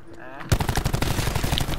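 A shooter video game's gunfire comes as a rapid burst of automatic shots, dense and continuous for over a second and loud against a brief quiet start.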